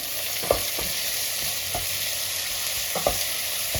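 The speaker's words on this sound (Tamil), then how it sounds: "தக்காளி வந்து நல்லா மசிஞ்சு வரணும், அது வரைக்கும் நல்லா வதக்கணும் நம்ம." Three finely chopped tomatoes sautéing with softened onions in a pan for plain hotel-style salna, a steady close sizzle with occasional soft scrapes and clinks of a spoon stirring.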